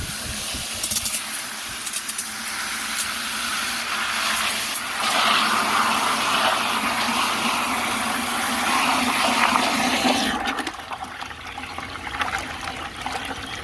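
Water from a hose pours steadily into a container of compost, a loud continuous rush that shifts in tone partway through and then drops away to a quieter flow near the end.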